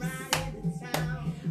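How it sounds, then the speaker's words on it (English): Two sharp, close slaps of hands clapping on knees, spaced about half a second apart, during a children's jungle dance routine, with soft background music between them. "Clap your knees."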